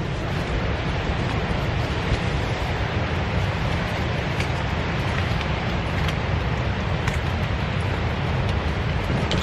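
Strong wind gusts across a coastal campsite over the steady roar of ocean waves, a loud, unbroken broadband rush that holds even through the whole stretch.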